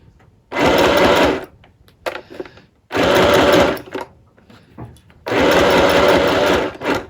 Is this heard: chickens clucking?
no